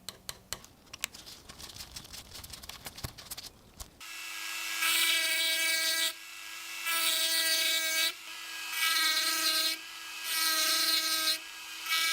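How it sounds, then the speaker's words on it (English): A high-pitched Dremel with a ball burr bit whines in repeated bursts of a couple of seconds each, clearing corrosion around the pivot pins of a rusted balisong knife, following a stretch of scraping and clicking. "a Dremel with a ball burr bit clears corrosion around the pivot pins"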